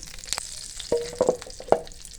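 Tadka of spices and red chili fries in hot oil for Kashmiri daal chawal, a close crackling sizzle with a few sharp pops and stirring clinks standing out.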